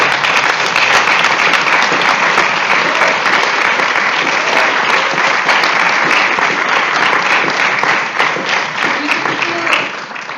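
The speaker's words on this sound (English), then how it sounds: "So please applause one last time all the sponsors." Audience at a round-table conference in France gives sustained, loud applause for the event sponsors, an even, dense roar of clapping lasting about ten seconds before easing slightly at the end.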